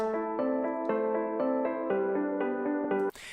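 Piano playing sustained chords low with a right-hand melodic line moving above in a trap beat verse, steady and clear, ending abruptly in a brief burst of noise.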